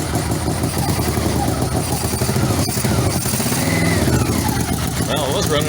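A 1985 Yamaha Venture Royale motorcycle engine running roughly on two cylinders, a loud uneven idle with mechanical clatter throughout, close up.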